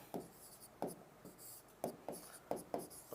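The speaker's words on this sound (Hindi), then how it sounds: "मैं उदाहरण लिख रहा हूं इसमें" A teacher handwriting examples, likely chalk or marker on a board, in short scratchy strokes with brief pauses between them, quiet and close, with no talk.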